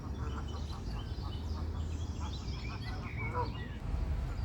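Mallard ducks quack in repeated short calls at a pond edge on a late spring day, mixed with other birdsong over a steady low outdoor rumble, moderately close.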